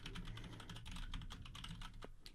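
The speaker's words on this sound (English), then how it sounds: "So you have to type it in." Rapid typing on a computer keyboard, a dense stream of light clicking keystrokes close by and fairly quiet, running steadily without pause for a couple of seconds.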